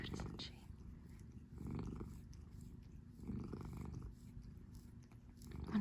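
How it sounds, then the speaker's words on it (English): A cat purrs in slow rhythmic cycles, each breath a soft rumbling swell, close up and faint, with a quiet voice talking at moments. "I wonder if you can even hear her purring."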